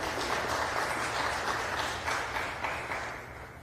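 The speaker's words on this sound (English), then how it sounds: "let's give her a round of applause" Applause from an audience at a literacy event, steady dense clapping close by that tapers slightly toward the end.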